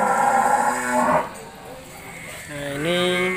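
Male Limousin cattle bellowing, two long low moos close by, the second rising in pitch, heard at a livestock sale.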